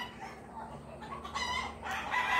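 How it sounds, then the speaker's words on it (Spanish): A rooster crows, a rising call that swells louder toward the end. It is fairly close and heard alone over faint background hum. "Yo navegando con los gallos, como siempre"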